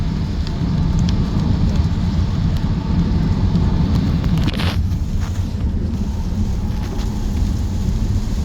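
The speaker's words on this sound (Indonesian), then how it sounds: "langsung hujan deras dalam 1 detik" Heavy rain drums steadily on a moving car during a drive on a highway out of Jakarta, a dense, loud, continuous wash with a brief brighter splash midway.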